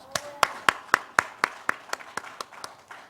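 Congregation in a Korean church service clapping together, a dozen or so sharp claps in a steady rhythm that gradually softens toward the end, with no talk over it.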